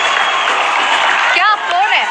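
Studio audience applause from a comedy game show set, steady dense clapping throughout, with a voice rising over it near the end.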